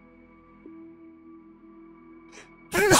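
A sneeze bursts out once, loud and close, at the very end, after a stretch of quiet steady game music with a soft sniff shortly before it.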